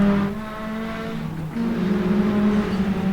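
Mini stock race cars at speed during a race on an oval track, engines droning in a steady high whine with a shift in pitch as cars pass close by, loud and without talk.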